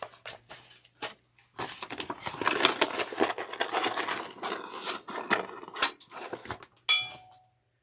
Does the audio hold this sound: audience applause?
no